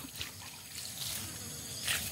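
Water poured by hand at the base of an eggplant plant in a garden, a soft, faint trickle running steadily for about two seconds with no talking.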